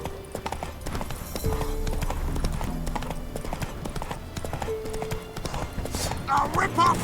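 Horse hooves clip-clop steadily at a gallop in The Witcher 3, loud and continuous under game music and a speaking voice, with a brief whinny near the end.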